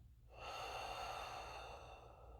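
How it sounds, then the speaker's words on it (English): One long, deep exhale from a person during a guided breathing exercise, a soft airy rush that swells, holds, then slowly fades, close and quiet with no talking. "and breathing out."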